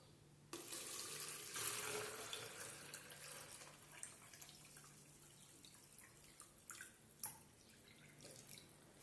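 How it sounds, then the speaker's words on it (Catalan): Water pours from a cut-off plastic bottle into a one-litre container, a continuous splashing trickle that starts abruptly and runs for several seconds, thinning into drips and small splashes near the end. "Així que anem a vessar l'aigua."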